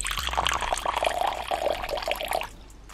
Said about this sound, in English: I just emptied out its water bowl, so I'll go ahead and fill that one up too